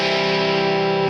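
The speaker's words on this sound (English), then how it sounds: "here I'm going to disengage the distortion and use it as an EQ alone" An Electro Harmonix effects pedal with its distortion switched off and used purely as an EQ, shaping a steady sustained electric guitar tone with boosted lows and highs, heard alone.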